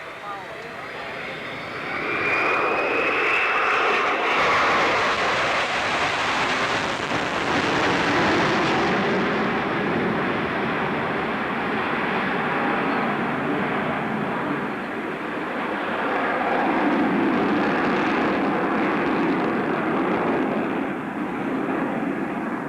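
A loud aircraft passes over an airshow, its broad engine roar swelling in and sustained throughout, rising and falling slightly as it moves overhead.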